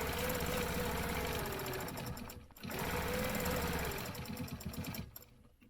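A sewing machine stitches around a stencil in two loud, close, rapid runs with a brief pause between them, ending with a short fade.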